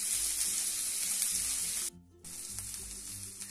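Sweet corn cooking in butter in a pan, a loud steady sizzle and hiss close up that drops out briefly before resuming, with faint scraping as it is stirred and no talk.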